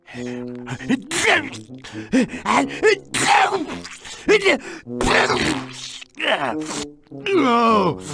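A cartoon character in the Toonstruck video game lets out a sneeze among gasping, expressive voiced sounds, loud and close, with a short spoken exclamation mixed in.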